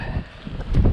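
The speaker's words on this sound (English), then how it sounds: "Wow, it's windy." Strong gusts, near 45 miles an hour, sweep an open field with no shelter, roaring and buffeting against the microphone in uneven surges that swell toward the end of the brief moment.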